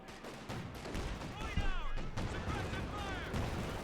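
Artillery shells from an aerial bombardment land on infantry in Company of Heroes 2, a battlefield strategy game, as a stream of dull distant booms and thuds under whistling incoming rounds and steady battle noise.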